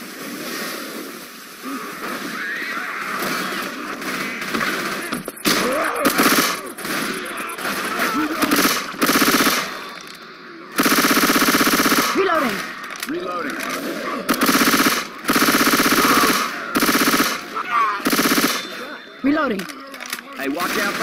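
Bursts of automatic gunfire from the video game Left 4 Dead, loud and near, firing in repeated volleys with brief gaps, mixed with game sounds and players talking over the shooting.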